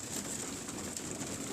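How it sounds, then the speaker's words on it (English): Young grizzle racing pigeons coo softly in a loft after feeding, a steady murmuring chorus close by with no talk. "These grizzles come from Rick Noon's of Utah. Beautiful birds, beautiful birds"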